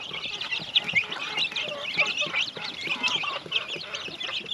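Broiler chickens about 45 days old crowd a Philippine farm pen, their dense, continuous clucking and chirping filling the space at close range without pause.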